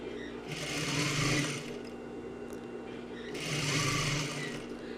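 A sewing machine stitches fabric pieces along a half-centimetre seam, starting with a backstitch: two loud, close bursts of rapid mechanical whirring with a quieter hum between them.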